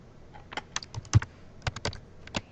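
Keys clack in quick irregular bursts on a computer keyboard while a problem is entered into a Meditech 6 care plan, each tap crisp and close with short pauses between clusters, no voices.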